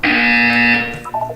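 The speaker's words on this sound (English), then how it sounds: "You will hear a buzzer." A video game buzzer gives one loud, steady electronic blare that holds for nearly a second and then fades into quieter tones.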